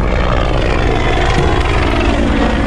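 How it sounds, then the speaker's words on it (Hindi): A coast guard helicopter passes overhead near Juhu Beach, a loud, continuous rotor and engine roar that fills the clip, heard from the water with no speech. "और ये कोस्ट गार्ड का हेलीकॉप्टर ऊपर से जा रहा है, you can hear the sound."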